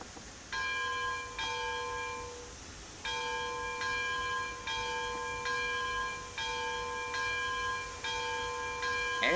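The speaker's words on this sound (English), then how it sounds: "This is what her bell sounds like." A model Porter steam locomotive's bright, ringing bell strikes repeatedly at a steady pace, each clang sustaining with a clear metallic tone over a low background hiss.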